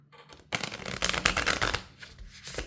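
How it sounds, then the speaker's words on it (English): Oracle cards shuffle by hand in a steady, papery riffling burst lasting about two seconds after a brief quiet start, close up and with no talking. "Let me just give this a good shuffle."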